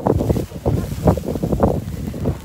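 Strong gusting wind outdoors during a snowstorm in New York City, buffeting the microphone in continuous low, rough surges at close range.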